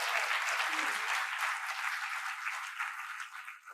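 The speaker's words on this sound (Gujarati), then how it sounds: "એકવાર ખૂબ તાળીઓ એમના માટે થવી જોઈએ" An audience at a World Poetry Day poets' gathering claps for a poet, dense sustained applause filling the whole stretch and tapering slightly at the end.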